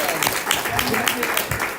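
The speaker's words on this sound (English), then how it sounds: "I just wanted to just give a little round of applause for those putting out personal money for this." A crowd at a town hall meeting claps in a steady, sustained round of applause, dense and fairly loud throughout with voices mixed in.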